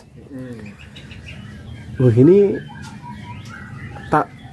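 Kacer panda magpie-robin calling nearby: a few short whistled phrases, with a louder warbling burst midway and a brief sharp note near the end, over steady background noise and a voice.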